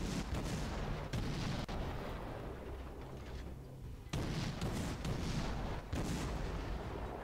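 Battleship naval guns fire in a video game, heavy booming shots rolling into a dense, continuous rumble of cannon fire and blasts, with a few louder bursts standing out.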